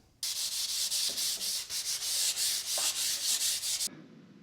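Folded 400-grit sandpaper rubbed by hand over a lacquered wooden roll top desk, a steady close scratchy rasp running continuously with slight rhythmic strokes, then stopping abruptly near the end.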